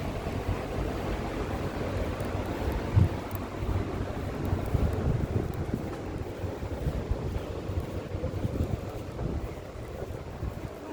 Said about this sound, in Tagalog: Yan na, humangin na.